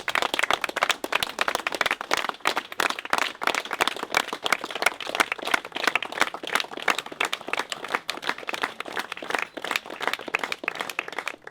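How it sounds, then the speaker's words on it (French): Applause from a crowd gathered at a Ghost Bike memorial tribute, dense steady clapping sustained throughout at a moderate distance, with no speech. "Conclu par des applaudissements."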